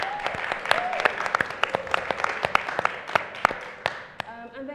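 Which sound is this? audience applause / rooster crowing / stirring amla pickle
audience applause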